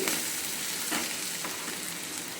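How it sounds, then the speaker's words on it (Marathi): Onion sautéing with cumin and garlic in oil in a kadhai, a soft continuous sizzle with a few stirring scrapes, close but fairly quiet. "त्याच कढईमध्ये तेल टाकलं त्याच्यात जिरं टाकलं लसूण टाकला आणि कांदा परतवायला टाकला"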